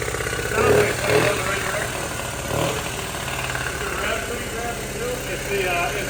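A Honda Z50 motorcycle engine idles with irregular pops coming from the intake, a steady mid-level running sound under people talking nearby.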